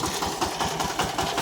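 A tractor engine runs steadily in second gear in a field, a loud near chugging with a regular low pulse throughout.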